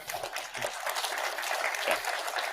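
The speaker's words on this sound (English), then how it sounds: "I'll hold for applause, please." An audience breaks into steady applause, a dense wash of many hands clapping together at a fairly even level.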